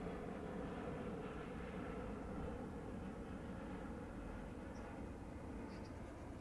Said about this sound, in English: we'll just let that aeroplane go over